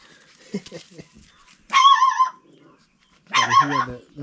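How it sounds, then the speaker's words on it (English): Three-week-old puppy on a Kenyan village farm giving two loud, high yelping barks about a second and a half apart, each clear and alone after faint scuffling. "And here that's a puppy."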